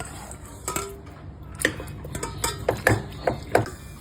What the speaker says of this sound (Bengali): এবারে প্রেসার কুকারে দিয়ে দেওয়া হচ্ছে